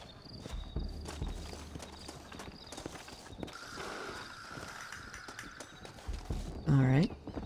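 Horse hooves clip-clopping in the Western video game Red Dead Redemption, a steady run of hoofbeats amid game ambience, ending with a brief whinny-like tone.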